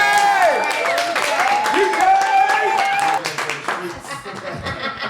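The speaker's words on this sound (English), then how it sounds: "Another round of applause for DJ!" Audience applause during a live podcast recording, clapping and cheering mixed with loud talk and laughter, the clapping thinning out toward the end.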